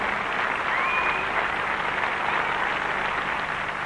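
Dense, steady audience applause fills a ballroom after a Danish championship professional Latin dance final, a continuous roar of many hands clapping with no breaks, crowd noise blended in.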